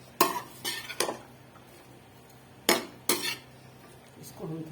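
A utensil stirs onions in a pan for chicken jalfrezi, making a handful of sharp metallic scrapes and clanks in irregular bursts with quiet gaps between them, close by.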